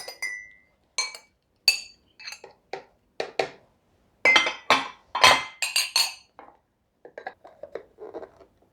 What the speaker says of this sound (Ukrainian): І зараз я шматочки перекладу у чашку подрібнювача.